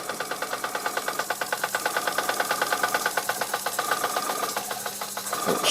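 A century-old Bing toy steam engine, freshly repaired with a new steam pipe and piston, chuffs slowly in a steady, even rhythm of close mechanical beats, running alone without talk.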